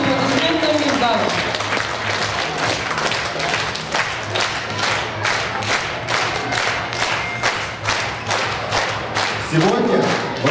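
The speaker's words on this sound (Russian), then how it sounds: "Благодарим наших выпускников и провожаем их подходным аплодисментами в зал." Graduates enter a school hall at a primary-class farewell ceremony while a crowd gives sustained, dense applause with steady rhythmic clapping throughout, voices mixed in and music in the background.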